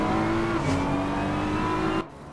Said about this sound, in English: Completely forgot how loud the McLaren is on the inside.